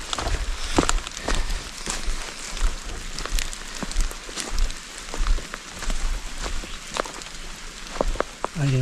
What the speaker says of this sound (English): The rain is very fast.